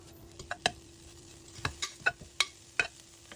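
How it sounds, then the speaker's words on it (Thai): Freshly pounded curry paste for a beef kaeng om is stir-fried in a pot, with scattered spatula scrapes and clinks against the metal over a faint, quiet sizzle. "ใส่เครื่องแกงที่เราตำเมื่อกี้ลงไปผัดครับ ผัดให้หอมเลยนะครับ"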